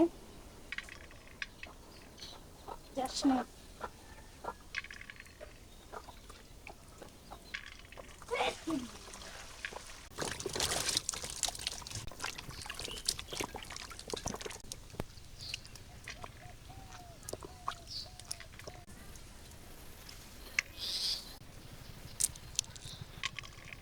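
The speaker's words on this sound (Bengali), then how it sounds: "আমি এই টমেটোর সস বানানোর জন্য টমেটোগুলো আগে ধুয়ে নেব" Ripe, vine-ripened tomatoes rinsed by hand in water in a home kitchen: intermittent splashes, trickles and wet patters come in bursts, with a louder stretch of running, sloshing water in the middle and quieter handling noises between.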